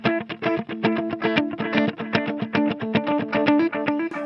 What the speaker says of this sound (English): When you use a dotted 8th delay,